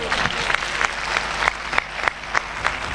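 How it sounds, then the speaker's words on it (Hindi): A congregation at a sermon claps, a dense wash of applause at moderate volume with occasional sharper claps standing out, and no speech over it. "ताली बजानी है तो फिर जोर ना बजाओ"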